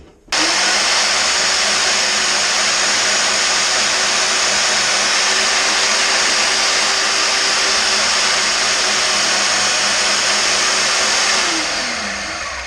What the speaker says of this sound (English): we'll jump over to the bandsaw and cut them off